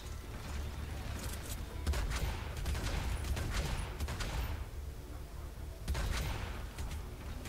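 Dense, continuous rapid shotgun fire in the video game Hitman: Absolution, booming bursts layered over a constant rumble with periodic louder volleys.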